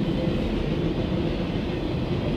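A CSX military freight train carrying Hummers on flatcars rolls past with a loud, continuous low rumble and steady rail noise, close by and with no voices.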